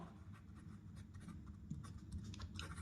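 A pen scratches across a surface in short strokes during a maths lesson on squares of numbers, quiet and close, with no voices.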